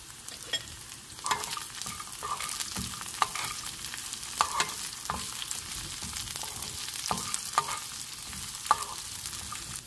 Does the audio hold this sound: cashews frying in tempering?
yes